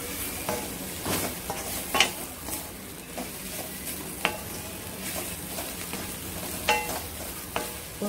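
Drumstick leaves for a stir-fried poriyal sautéing in a pan give a continuous soft sizzle, broken by sharp clinks and scrapes of a spatula against the metal every second or two.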